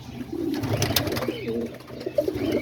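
Homing pigeons coo close by in soft, throaty rolling calls repeated over a couple of seconds.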